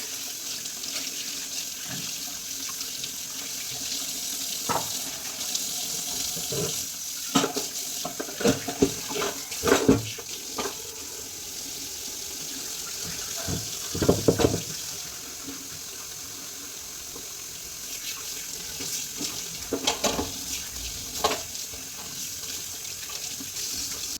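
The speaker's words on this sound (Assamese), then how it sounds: "বেচিনত বহুত বাচন জমা হৈ গৈছিলে। তাৰপাছত মই সেইখিনি ধুলোঁ" Water from a kitchen tap runs steadily into a sink while a pile of accumulated dishes is washed. The constant flow carries scattered clinks and clatters of plates and pots near at hand, with brief louder bursts throughout.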